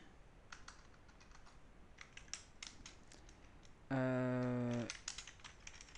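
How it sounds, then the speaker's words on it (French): Quick, irregular clicking of fingers typing on a computer keyboard, soft and close, broken midway by a steady harmonic electronic beep lasting under a second before the typing resumes. "je vais taper"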